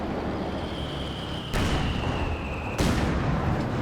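A mortar takes a heavy hit during a Company of Heroes 2 battle: two sharp, booming impacts land about a second apart over a constant rumble of distant combat.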